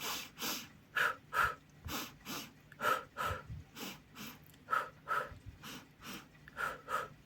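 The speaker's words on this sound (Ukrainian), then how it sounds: "Два рази вдох, два рази видих." A children's vocal ensemble performs a breathing exercise, drawing breaths in and out in paired rhythmic pulses, two inhales then two exhales, repeated steadily and clearly with no talk over them.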